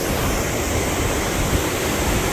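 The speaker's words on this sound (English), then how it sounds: "You can see the turbines blasting out water from the side of the dam" Water blasting from turbine outlets on the side of a dam about 94 feet high, falling to the stream bed below, makes a steady, loud, dense roar with no break.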